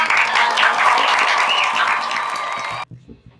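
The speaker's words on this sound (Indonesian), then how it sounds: "Tepuk tangan dulu dong." A podcast audience claps in a dense, steady round of applause that lasts a few seconds, then cuts off abruptly, leaving quiet room sound.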